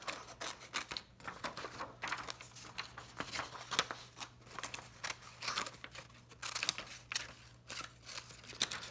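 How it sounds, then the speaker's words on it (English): Quick, irregular snips of scissors cutting paper, with crisp crinkling and rustling in between, close and fairly quiet. "you just take your scissors and you want to snip"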